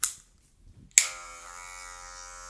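Electric hair clipper fitted with a number 1 guard switches on after a short quiet gap and runs with a steady buzzing hum while cutting hair, close and moderately loud.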